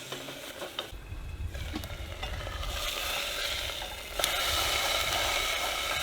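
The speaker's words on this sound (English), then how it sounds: "And because we're frying a hamburger," A hamburger fries in a pan on a stove, giving a steady, close sizzle that grows slightly louder and denser toward the end, with no talking.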